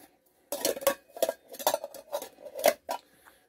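An alcohol stove and metal cups being packed into a backpack: a close run of sharp metallic clanks and clinks, about six distinct knocks with rustling between them, no talking.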